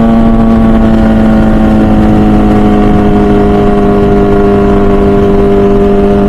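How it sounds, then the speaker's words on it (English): An MV Agusta Brutale 1000 RR naked superbike's engine and exhaust hold a loud, smooth, steady high drone close by, with sustained engine tones through the whole stretch and no voices. "The amount of power this bike generates when you roll on the throttle, combined with the noises that come out from the exhaust and the engine"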